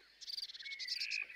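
A small toad croaks in a quick series of short, bright trilling pulses followed by a longer sustained call, close and fairly faint, with no other sound around it.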